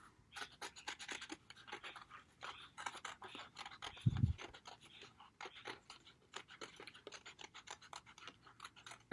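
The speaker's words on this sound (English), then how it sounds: "I'm going to go ahead and take my scissors and just cut out that Mickey Mouse head." Scissors cut through cardboard to shape a Mickey Mouse head, a series of close, quiet crisp snips and scratchy rasps in uneven rhythm, with one brief louder thump partway through.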